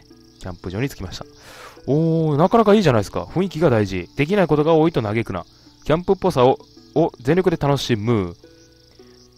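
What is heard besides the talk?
cicadas at campsite in video game Margikarman ItoA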